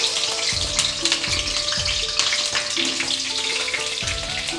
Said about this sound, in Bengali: প্রথমে আমি আলুগুলো ভেজে নেব।